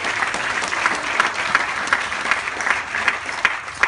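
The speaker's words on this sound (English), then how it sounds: "I'd like to give a round of applause to Kerry." An indoor audience applauds steadily at an evening event, with dense, sustained clapping from many hands that stays loud and even throughout.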